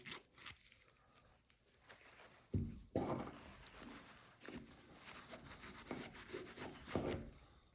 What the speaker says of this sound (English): Just with wiping it down, I've got almost all of that clean.